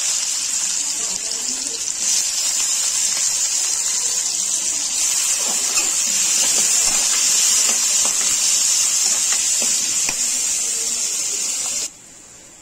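Green chili and onion sizzle in a hot pan, a steady bright hiss that holds for about twelve seconds and then drops away abruptly.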